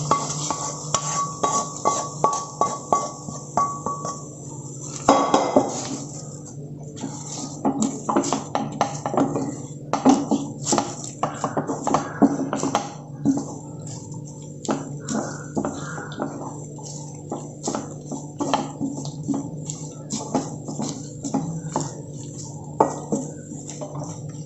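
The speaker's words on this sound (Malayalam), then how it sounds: "ഇപ്പോൾ കടുക് വറുത്തത് നമുക്ക് ചക്കേനകത്തോട്ട് ഇട്ടിട്ട് മിക്സ് ചെയ്ത്" Jackfruit thoran being stirred in a pan with fried mustard seeds, steady scraping and clinking of a spoon against the metal pan in an irregular rhythm, close and clear over a faint sizzle, no talking.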